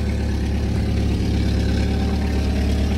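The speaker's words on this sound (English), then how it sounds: "Sounds like it has a fucking exhaust leak." A Toyota GR Corolla engine idles close by with a suspected exhaust leak, giving a steady, throbbing low rumble with no break and no voices.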